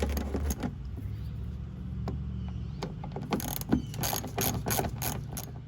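Ratchet clicking close up while removing 8mm bolts from the fender flares of a 2019 RAM 1500 Limited, in quick bursts of pawl clicks with a few sharp metallic taps and some background hum.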